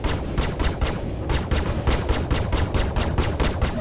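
Explosive-style rounds fired in Star Citizen, a loud, close burst of rapid automatic shots in an even rhythm, with a brief pause before firing resumes steadily.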